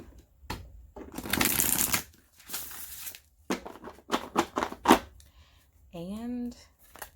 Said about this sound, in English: I'm going to do 5 shuffles for group number 4.